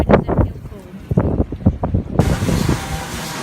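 Strong, cold wind blusters on an open day, hitting the microphone as a rough, broad rush that swells toward the end. Someone talks throughout.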